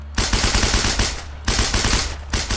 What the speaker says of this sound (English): we have also updated a lot more of the weapon sounds to include the Maschinengewehr 42